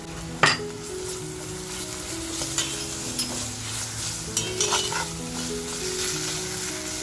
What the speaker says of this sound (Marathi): तो आता आपण मस्त असा तेलामध्ये हा फ्राय करून घेऊया